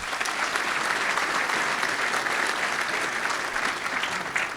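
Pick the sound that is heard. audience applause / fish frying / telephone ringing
audience applause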